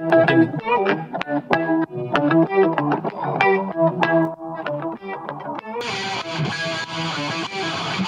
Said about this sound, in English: I could slap CLA guitar on here and choose, you know, different amp styles like this